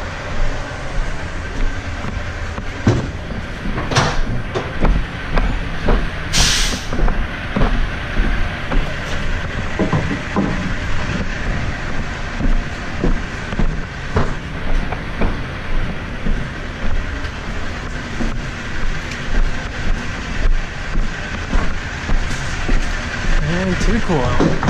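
Rumbling engine of a truck pulling up close by, a loud, steady low drone with rattling pulses that masks someone talking over it throughout.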